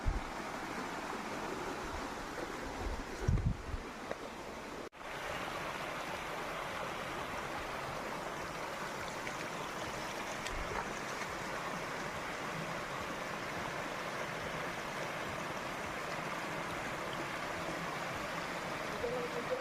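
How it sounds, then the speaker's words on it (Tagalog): A clear mountain stream flows continuously over rocks in Gumaca, Quezon, a constant broadband wash with a brief disturbance near the start. "Kaya po malinaw ang tubig dito sa Busay. Umaagos siya sa mga bato."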